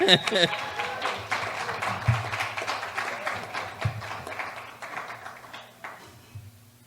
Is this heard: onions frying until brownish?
no